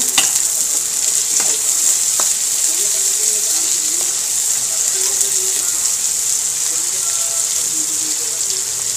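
Chili peppers fry in hot oil in a pan while ginataang tilapia is being cooked. A steady, bright sizzle runs throughout, with a few soft clinks and stirring sounds mixed in.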